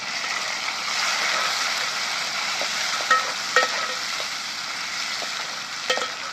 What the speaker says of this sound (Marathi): तर आता टाकून घेते कांदा आणि लसूण चांगला लाल झाला